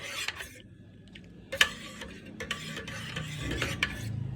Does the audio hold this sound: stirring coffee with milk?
yes